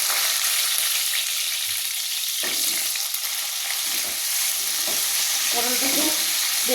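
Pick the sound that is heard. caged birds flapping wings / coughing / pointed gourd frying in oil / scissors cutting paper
pointed gourd frying in oil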